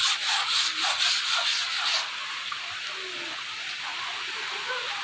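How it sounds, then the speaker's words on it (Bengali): Rain beginning to fall outdoors, a dense steady hiss with a rougher, pattering first two seconds that then settles into an even wash of sound. "দেখো আবার বৃষ্টি শুরু হয়েছে"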